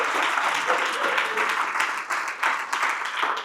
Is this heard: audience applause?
yes